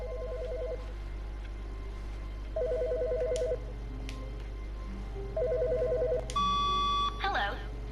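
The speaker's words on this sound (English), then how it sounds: "Wait, there's a phone ringing." A telephone rings in the video game The Stanley Parable, with three evenly spaced electronic trilling bursts over a low steady hum, then a brief tone and clatter as it is picked up.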